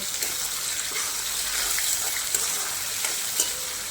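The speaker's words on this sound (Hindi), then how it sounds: "अब इसमें मैं डालूंगी टमाटर, जो हमने बारीक चॉप करके रखे थे।" Finely chopped tomatoes go into a pan of frying masala, producing a steady close hiss and sizzle with faint stirring clicks, and no one speaks.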